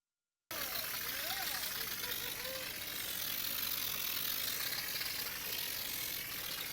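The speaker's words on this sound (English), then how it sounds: "You can see the compressor they used here in the background." A small air compressor powering a mortar sprayer runs steadily in the background, a continuous mechanical hum and rattle with no pauses, fairly faint and broadband.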